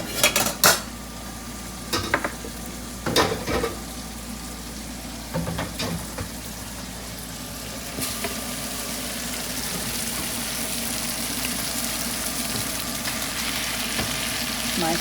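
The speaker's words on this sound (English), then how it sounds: "Frying nicely." Saltfish sizzles and fries steadily in a pan while a Jamaican comfort meal of baked beans, saltfish and dumplings is cooked, with a few sharp clinks of utensils and stirring early on before a continuous even crackle.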